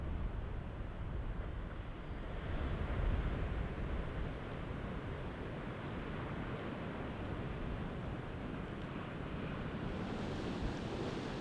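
Ocean surf pounding the rocks below God's Thumb on the Oregon coast, a steady, dense roar of breaking waves mixed with wind buffeting the microphone, continuous and fairly loud throughout.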